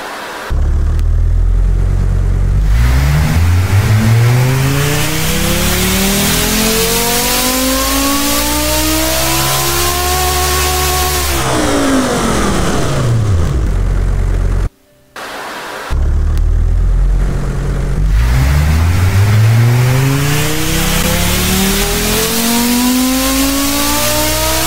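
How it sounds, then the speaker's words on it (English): A five-cylinder car engine in the game Automation revs hard repeatedly, pitch sweeping up and down in long pulls, loud and close, with a brief drop to near silence midway. "That's a beautiful sounding inline 5"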